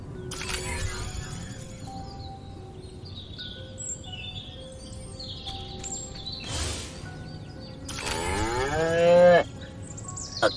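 A cow moos loudly in the video game Destroy All Humans, one long drawn-out bellow near the end, preceded by game sound effects and bird chirps.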